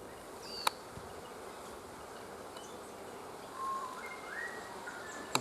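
Bees forage among flowering paperbark trees as winter approaches, their faint, steady outdoor buzzing joined by a few soft chirps and brief clicks.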